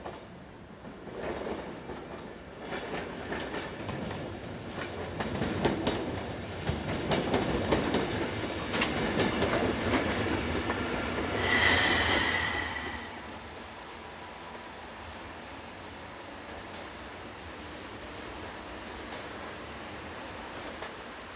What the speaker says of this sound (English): a Class AM73 arrives in the golden